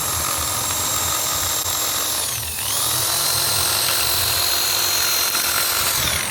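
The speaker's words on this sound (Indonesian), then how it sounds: "Di sini saya punya bor dan saya rubah atau saya fungsikan untuk motong rumput." A handheld electric drill rigged up as a homemade grass cutter runs in a steady, loud, close whine throughout, dipping briefly near the middle before resuming at full speed, with no talk over it.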